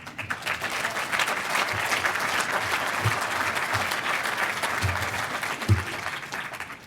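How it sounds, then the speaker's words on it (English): Audience applause after opening remarks at a university innovation event, a steady dense wash of clapping sustained throughout, moderately loud with no voices over it. "Now that's an applause line if I've ever heard one."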